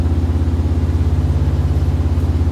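An owner-type jeep engine runs at a high idle, a steady low throbbing pulse with a slight rise in revs. It sounds close and continuous, with no talking.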